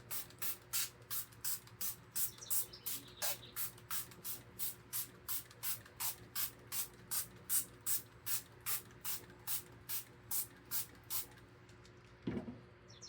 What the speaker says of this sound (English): get yourself a spray bottle of water,